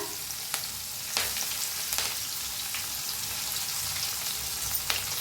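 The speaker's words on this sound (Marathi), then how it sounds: "थोडंसं हिंग लसूण चेचून घेतलेला हिरव्या मिरच्या पत्ता" Asafoetida, crushed garlic and green chilies frying in hot oil for masala bhindi: a continuous loud sizzle with a few sharp crackles and stirring scrapes.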